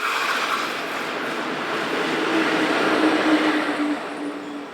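A train descends the spiral loops at Giornico toward Bodio, rolling past as a steady, close rumble of wheels on rail with a faint squealing tone, loud and continuous throughout.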